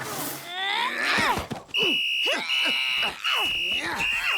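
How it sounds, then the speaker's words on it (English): Several shrill, sustained whistle blasts sound in a row, loud and close, mixed with excited voices and shouting around them. "3 full whistles and 2 semis means stop fighting!"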